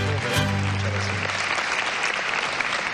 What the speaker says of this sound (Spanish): Miren nada más, ovación.